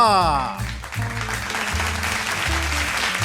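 An audience applauds as finalists arrive on stage at a cooking competition grand finale, steady clapping layered over music throughout.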